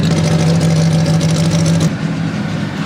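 A 1966 Renault 8 Gordini with a 1300 cc, 110 hp engine runs steadily at high revs with a strong, buzzy mid-range drone, then drops sharply to a lower, rougher idle near the end, loud and close.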